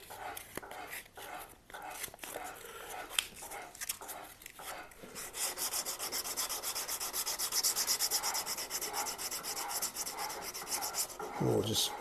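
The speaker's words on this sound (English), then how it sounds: "Sanding block, where is it? Here it is." Sanding block rubbing over the corner of a wooden guitar neck with a continuous rasping scrape, steady and close, after a few short strokes at the start.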